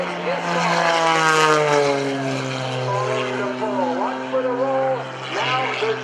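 An aerobatic propeller airplane flies a vertical shoulder roll at an airshow, its engine a loud, sustained drone with a strong pitch that slides and wavers under an announcer talking over a PA.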